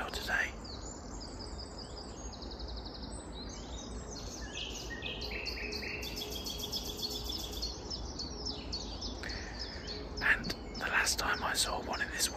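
A nightingale, freshly arrived from Africa, sings in woodland: varied bursts of whistles and trills over a steady hiss of background noise, with a louder phrase near the end.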